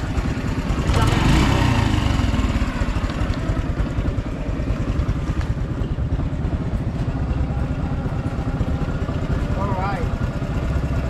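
A Honda Wave 110 motorcycle engine runs steadily and loudly on a road test, a continuous close drone with slight swells, while a person talks over it.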